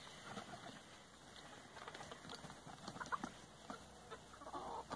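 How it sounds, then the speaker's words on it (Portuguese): Chickens cluck softly inside a farm coop, with scattered short calls over a faint, steady background hiss and no clear voices. "A gente vou nas minhas galinhas aqui pra mostrar pra vocês."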